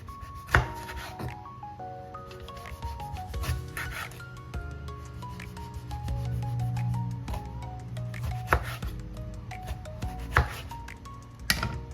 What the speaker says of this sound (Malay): kita potong nipis-nipis, jangan tebal sangat